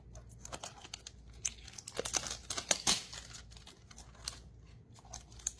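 Scissors jab and snip through the crinkly plastic wrap on a square Swiss Arabian Eau de Parfum box, with close, irregular crackling and tearing bursts that swell in the middle and then thin out.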